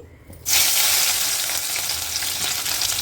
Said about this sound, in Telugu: నూనె కాగిందండి కొద్దిగా వెల్లుల్లిపాయలు వేసి